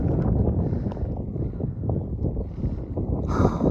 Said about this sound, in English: This wind feels amazing.